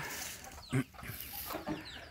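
A rooster gives short, distant calls, a brief clucking burst followed by another fainter one against a quiet outdoor background.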